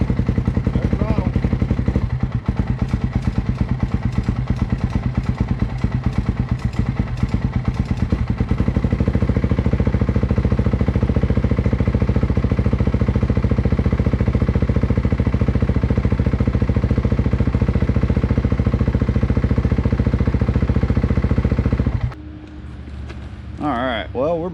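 A small engine that has sat for a week is started on choke and runs for a spin around the yard, a loud, close, steady chugging idle with rattles early on, then cut off abruptly near the end.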